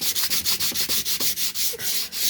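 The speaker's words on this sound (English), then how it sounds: "so I got some sandpaper here." Sandpaper rubs rhythmically back and forth across a painted surface layered with stucco, pastels and marker, making about a dozen quick, close scratchy strokes in a steady beat.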